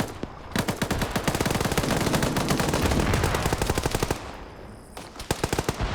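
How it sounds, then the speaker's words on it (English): A full magazine dumped on automatic in an online multiplayer video game: a long, rapid burst of loud close gunfire, many rounds in fast rhythm, easing into a lull and then a few last shots. "I'm impressed Reaper survived that mag dump"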